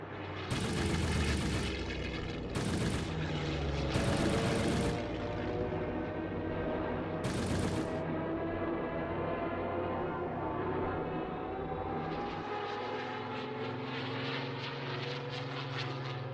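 Battle of Britain–era WWII aircraft, propeller engines droning loud and steady throughout, with several sharp bursts of gunfire-like crackle early on and a shift to a higher, tighter engine tone near the end.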